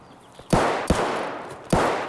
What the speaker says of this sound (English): Okay, gunshots in here